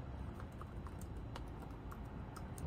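Steady, rapid key clatter from typing on the keyboard of a Samsung Galaxy Book laptop, close and fairly quiet, continuing without pause throughout.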